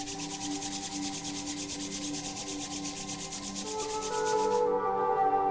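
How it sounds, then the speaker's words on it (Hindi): Two hands rubbed briskly together during a guided meditation, a steady close rhythmic swishing friction lasting several seconds over soft background music, which carries on alone at the end. "दोनों हाथों को जोड़ें, जोर से रब करें।"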